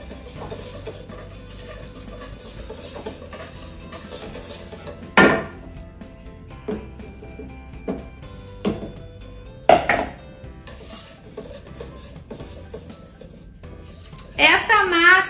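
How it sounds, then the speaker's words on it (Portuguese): Flour and baking powder being whisked into a sugar-free cake batter in a bowl, soft rhythmic stirring with a few sharp clinks of the whisk against the bowl, close up. "agora vou adicionando aos poucos aqui a minha farinha com o fermento. E vou misturando com um fouet"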